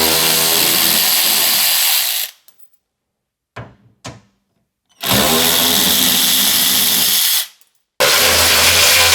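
A loud power tool whines in two long bursts and then starts a third, with short pauses between them, while 10 mm bolts come loose on the underbody cover of a Ford Bronco Sport Badlands.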